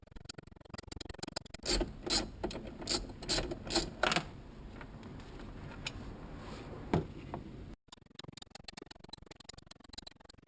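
Small mechanical clicks and ratcheting taps come from a tool working the seat bolts inside a 2006 Subaru Impreza WRX, a quick irregular run of ticks that is close but fairly quiet, with a short break near the end.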